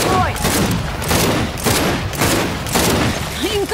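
A deployed turret in Gears 5 hammers out loud, sustained automatic fire in rhythmic pulses, close and dominant, with a voice breaking in briefly.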